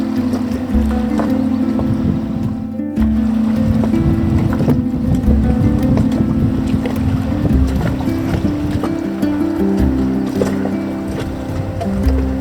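Sailboat motoring under engine power toward Poros in Greece, a steady low engine drone mixed with wind buffeting the microphone and water wash, with a brief dropout partway through.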